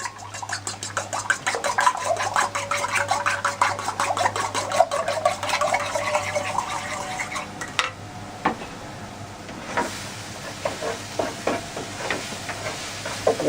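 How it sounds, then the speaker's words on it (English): About 15 cracked eggs stirred in a pot alongside peppers and onions, a steady close scraping and sloshing over a background sizzle for most of the stretch, then thinning to scattered scrapes and clinks near the end. "We'll go ahead and stir those up."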